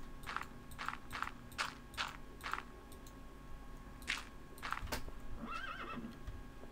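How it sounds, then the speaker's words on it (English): A Minecraft horse gives a short series of breathy, evenly spaced snorts and clip-clop-like bursts, then a wavering whinny near the end, over a faint game background hum. "And we got ourselves a horse."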